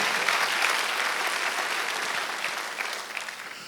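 Congregation applauding during a Korean Sunday church service at Jesus Center Church, a steady dense wash of clapping throughout, fairly loud and sustained, tapering slightly at the end.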